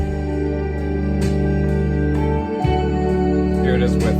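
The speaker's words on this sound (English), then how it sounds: "since I already had the ukulele, that I would just bow some strings over the top of the MIDI strings" Bowed ukulele strings layered over synthesized MIDI strings in a music track, giving sustained sliding tones over a steady harmonic bed, played continuously with no talking.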